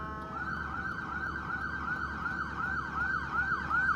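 An ambulance siren wails through town in a repeating rising-and-falling sweep, carrying clearly over low traffic rumble and growing slightly louder as it passes.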